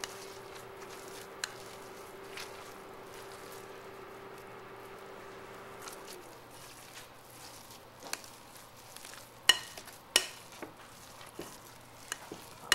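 A spoon works through a potato dish mixture with butter, giving soft, close squishing and scraping strokes, then sharper intermittent clacks against the bowl in the later half; no talking.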